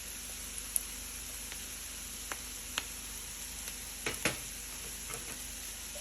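Garlic and ground pepper fry with onion in a pan for a creamy salmon dish, making a soft, steady sizzle broken by a few sharp crackles and pops.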